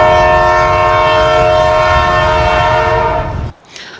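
Loud, sustained horn from a train on a mountain railway climbing from the coast to about 700 feet, blaring steadily for several seconds with rail rumble beneath before cutting off abruptly.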